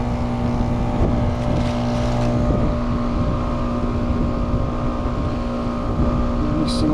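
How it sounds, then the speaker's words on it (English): The blower motor of a one-year-old heat pump that is leaking refrigerant runs close by as a steady, loud motor hum with a whooshing airflow, holding an even level throughout. "That blower motor should be ramping up."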